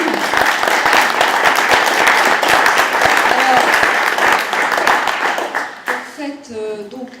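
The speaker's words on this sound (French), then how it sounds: "Je crois qu'on peut l'applaudir." An audience at a conference applauds in a dense, close, steady wash of clapping for several seconds, fading as a voice begins to speak at the end.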